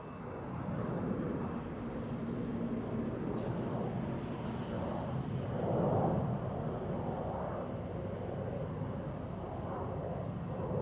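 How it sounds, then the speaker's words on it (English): A United airliner on approach to land on the Polderbaan runway at Amsterdam Schiphol, a steady distant jet roar swelling slightly midway, continuous and alone. "Looks like United is landing on the Polderbaan."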